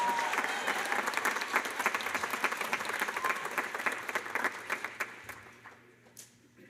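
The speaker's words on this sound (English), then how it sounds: "Another round of applause for Izzy, please." Audience at a school OMEA preview concert clapping, a dense, steady round of applause that fades out toward the end, with no voices over it.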